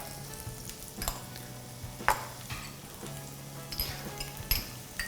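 Bay leaves and spices for a seafood stew sizzle and crackle in a hot pot, with soft stirring and a few clinks against the pot, at a fairly quiet level.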